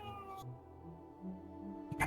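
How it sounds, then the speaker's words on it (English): A cat meows close into a microphone, one drawn-out, wavering call with a soft low murmur running beneath it. "This is a perfect time for your cat to come through on the mic."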